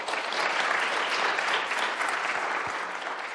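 Audience applause in a university lecture hall at Harvard, a steady, dense clapping from a large crowd that holds at an even level throughout.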